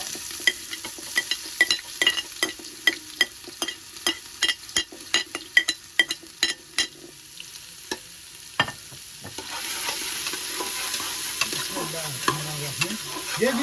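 White onion dropped into hot oil for Saudi-style biryani, with a run of sharp spoon knocks against the pot over a low sizzle, then a louder, steady frying hiss takes over.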